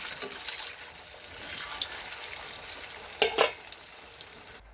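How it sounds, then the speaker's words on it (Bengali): Banana pitha fry in hot oil, a steady close sizzle and hiss with a few brief clinks and stirring knocks near the end, no talk. "এখন পিঠাগুলো তেলে ভেজে নেব।"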